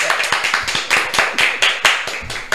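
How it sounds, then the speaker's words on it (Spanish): A TV studio audience claps in an uneven, close and loud patter, with sharp individual hand claps rising and falling in short bursts and no voices over them. "¡Aplaudan otra vez! ¡Aplaudan!"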